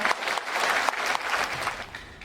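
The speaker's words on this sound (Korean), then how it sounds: "여러분의 뜨거운 박수로 본격적으로 시작하도록 하겠습니다" An audience claps warmly to open a 2023 public travel lecture, with dense, continuous applause filling the hall for the whole stretch.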